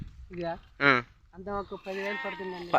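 A goat bleats several times in quick succession, wavering cries close by with short gaps, the last calls longer and more drawn out.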